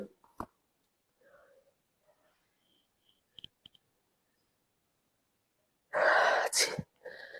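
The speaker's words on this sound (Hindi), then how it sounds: "छींक आ रही है और आ नहीं पा रही है।" A stifled attempt to sneeze, a sudden loud burst of breathy, explosive noise near the end after mostly quiet seconds with faint clicks, close and alone.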